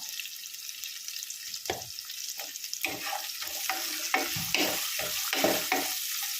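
Onions sauté in a pan with salt and amla, giving a continuous close sizzle, with spoon scrapes and stirring clatter coming more often toward the end. No one speaks.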